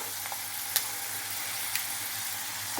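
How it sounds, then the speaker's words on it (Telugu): Thinly sliced large onions and green chilies frying in oil, a steady broadband sizzle running throughout with a few faint clicks of a utensil against the pan. "సన్నగా తరిగిన పెద్దలపాయ ముక్కలు పచ్చిమిర్చి ఆయిల్ వేసి కొంచెం వేగనిద్దామండి"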